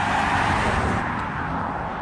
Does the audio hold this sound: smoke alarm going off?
no